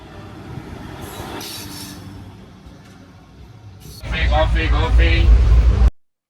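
A train rumbles along the rails at Ullindakonda railway junction, its heavy roar swelling loud in the last seconds before cutting off, with voices faintly present.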